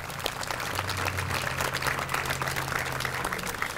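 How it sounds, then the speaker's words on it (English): Applause from an assembled crowd at a public library ribbon-cutting ceremony, a steady wash of clapping that runs the whole length, with a faint low hum beneath. "So I want to definitely give City of Bellevue another round of applause for making this happen."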